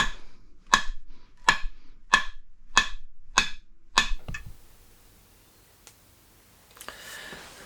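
Hults Bruk axe head being knocked down onto a new handle: six evenly spaced sharp wooden knocks, close and loud, followed by quiet with a few faint taps and shuffles.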